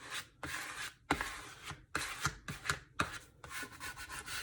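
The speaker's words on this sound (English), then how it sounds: "we're just going to use the squeegee again, and we're going to start in the middle and work our way out" A squeegee rubs vinyl stencil down onto a wooden sign, making repeated broad scraping strokes in a steady back-and-forth rhythm, close and fairly loud, with no talking.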